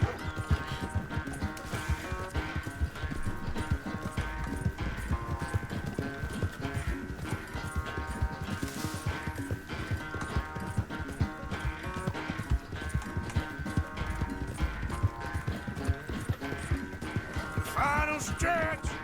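A horse gallops in Red Dead Redemption 2 during a race, its hoofbeats pounding rapidly and continuously up close over music and game ambience.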